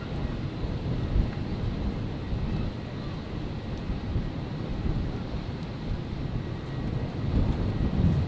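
An Air New Zealand A320neo rolls for take-off on runway 01 right at Brisbane airport on a stormy night, a steady distant engine roar with low rumble that swells slightly toward the end.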